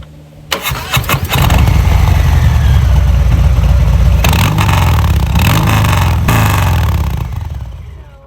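A motorcycle fitted with new S&S 2-into-1 exhaust pipes starts up and rumbles loudly and steadily near the listener for several seconds, with short rises in revs before it fades slightly at the end.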